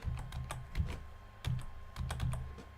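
Keys clatter on a computer keyboard as a command is typed into AutoCAD, a close run of crisp clicks in short uneven bursts with brief pauses between them.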